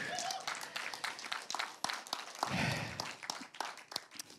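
Church audience claps in scattered, uneven bursts, fairly faint and thin, with some murmured voices mixed in.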